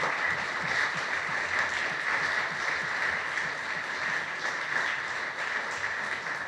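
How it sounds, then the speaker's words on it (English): A room full of people at a political party candidate forum claps in a long, even round of applause, loud and continuous throughout. "Give them another round of applause."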